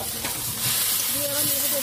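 Chili dropped into a hot pan while cooking a thin fish curry sizzles with a steady, close, loud hiss, with a faint voice woven through it.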